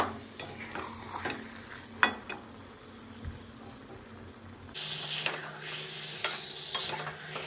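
About 750 grams of chicken being stir-fried for a kosa curry, with a low sizzle, sharp clicks of a spatula against the pan and a louder frying stretch toward the end, no talk.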